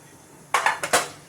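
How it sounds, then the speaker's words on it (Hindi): A metal kadhai (wok) is set down on a gas stove, giving three or four quick, close clanks and rattles against the burner grate after a moment of quiet. "ये हमने कढ़ाई रख दी है गैस पे।"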